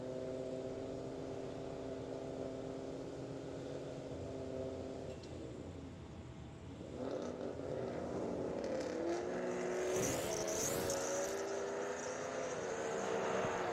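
Two Ford Mustang drag cars, a 2011 and a 2017, idle and roll toward the starting line at an NMRA drag race, their steady engine rumble loud and continuous, swelling in the second half.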